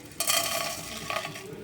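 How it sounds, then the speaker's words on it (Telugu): Mixed tempering seeds hit hot oil with a sudden bright crackle, then keep sizzling up close as a utensil scrapes and stirs them through the pan. "అన్నీ కలిపి ఉన్న తాలింపు గింజలు వేసుకోండి."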